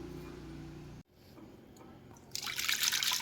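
Taro leaves are rinsed in water in a home kitchen while making alu vadi: a soft liquid sound, a brief quiet break, then louder splashing and running water near the end.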